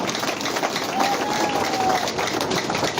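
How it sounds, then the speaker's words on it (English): A crowd at a political party manifesto launch claps and cheers in a continuous mass of noise, with voices mixed in beneath the steady applause. "Please clap for yourselves."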